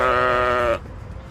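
A sheep gives a single loud, close bleat lasting under a second before cutting off into quiet room noise.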